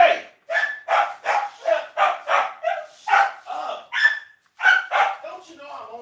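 Dogs bark in a rapid, steady string of about a dozen loud, close barks with short gaps between them, continuing through the whole stretch.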